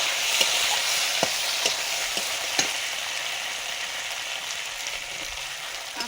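Chopped tomato added to a hot pan with chopped onion, a loud, steady frying sizzle with a few sharp clicks and ticks, close by and with no talking.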